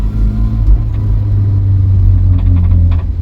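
A barn-find Vauxhall Viva's engine runs steadily with a deep, loud rumble while it shifts gears, its revs rising slightly near the end.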